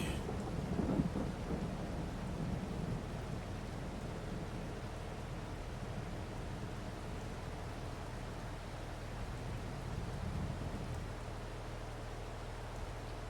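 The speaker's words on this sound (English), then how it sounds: "The minute it stops raining." Steady rain and rumbling thunder in Farming Simulator 22, a continuous wash of rainfall with deep thunder rolls swelling near the start and again around the tenth second, no voices.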